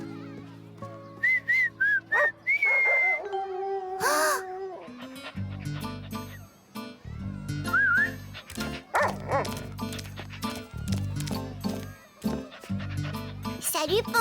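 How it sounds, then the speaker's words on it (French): A cartoon child attempts to whistle, producing several short wavering whistle tones among barking and yipping from a dog, with voices speaking and background music throughout. "Caillou avait honte d'être incapable de siffler alors que tous ses amis y arrivaient."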